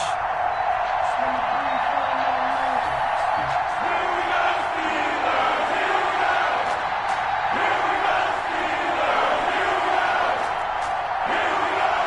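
A stadium crowd roars and cheers in an EA Sports NFL football video game before a Cincinnati Bengals versus Pittsburgh Steelers matchup, a dense, continuous wash of noise that stays loud and steady, with a voice faintly under it.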